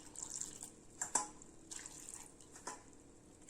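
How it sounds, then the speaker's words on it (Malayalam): Water is poured into a pan of jaggery for melting in a jackfruit recipe, giving faint splashes and a few brief drips and clinks, quiet and close with no talk. "അതിലേക്ക് കുറച്ച് വെള്ളം ചേർക്കാം."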